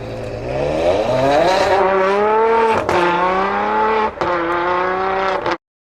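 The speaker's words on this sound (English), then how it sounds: "The sharpness of the gear changes make this car sound so good." A Ferrari 599 GTO V12 screams under full acceleration, its loud rising wail snapping through two sharp gear changes, each a brief dip before the pitch climbs again, then stopping abruptly.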